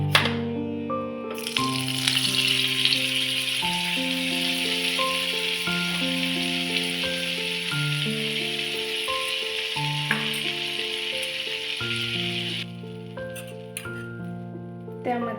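Butter sizzles in a hot kadhai while paneer tikka masala is being made, a steady frying hiss that starts suddenly and cuts off near the end, under background music.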